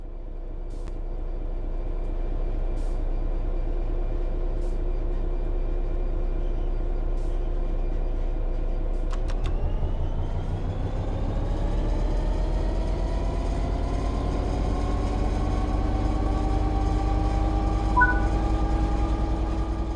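A train in Train Sim World 3 pulls away under throttle: a steady low engine drone is joined partway through by rising motor tones that climb in pitch as the train gains speed, with no voices.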